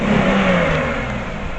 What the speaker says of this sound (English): A Monte Carlo Super Sport 2002 engine.